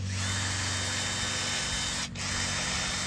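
Electric drill pre-drilling a hole into wood, a close, steady high-pitched motor whine with a brief dip partway through before it runs on again, with no talk.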